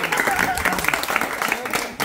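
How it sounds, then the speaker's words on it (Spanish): Brief burst of applause from a small group, dense and steady for about two seconds under overlapping voices, ending abruptly. "¡Aplausos!"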